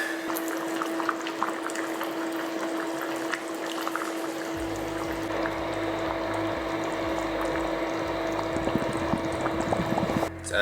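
Braised Korean short ribs with carrots, potatoes and mushrooms come to a boil in a pot, giving a steady close bubbling and simmering hiss that runs without pause, with a low rumble joining partway through.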